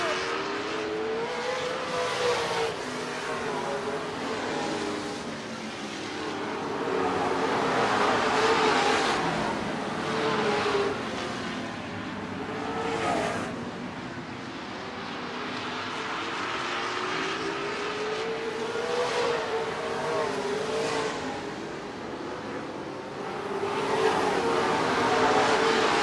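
Modified race cars lapping a short oval track at a North State Modified Series event, engines rising and falling in pitch as they circle, loud and continuous with swelling passes over the full span.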